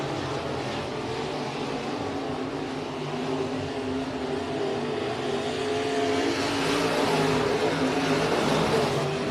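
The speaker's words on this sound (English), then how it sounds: "Slowing down now to turn 2 is the 11 car, Dennis Taylor." IMCA race cars circle Barona Speedway in Lakeside, California, a continuous droning engine roar from several cars that swells slightly near the end, heard from a distance with no voices.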